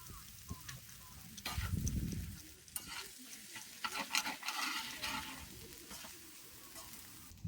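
Yakisoba noodles frying on an iron griddle at a campsite, with a steady sizzle and scraping, clattering stirring strokes that come and go, loud and close.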